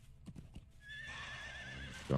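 A horse in the Lord of the Rings Online video game clip-clops with a few hoof knocks, then lets out a long, clear whinny that carries to the end, ending with a heavier thump.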